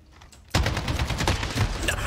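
Gunfire in the shooter game Modern Warfare: a sudden loud burst of rapid automatic shots that breaks in after a quiet half-second and rattles on close and dense to the end.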